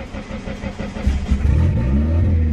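A Mitsubishi Eclipse 2G with a 420a turbo engine revs up close, its loud, rough drone climbing in pitch as the turbo pulls; no talking.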